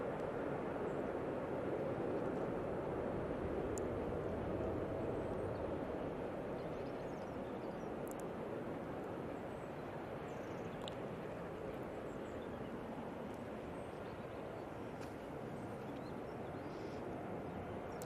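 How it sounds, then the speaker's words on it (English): A plane landing in strong wind at Manchester Airport, heard as a continuous broad roar that stays steady and loud for the whole stretch, mixed with gusting wind noise. "Wow, that landing was sketchy as hell"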